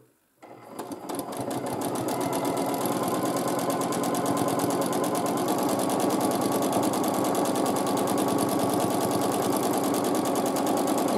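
A sewing machine stitches free-motion quilting swirls, starting up after a brief pause and then running at a fast, even, rattling pace for about ten seconds without stopping, close and loud.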